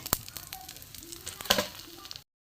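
Thin slices of ash gourd (chalkumro) coated in batter for chop, deep-frying in hot oil, give a soft steady sizzle with scattered crackles and one sharper pop midway, heard alone at close range.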